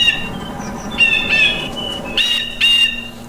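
Bird in the ArmA: Cold War Assault video game giving repeated sharp, high whistling squawks and chirps in several bursts over a steady low ambient hum, fairly close and loud.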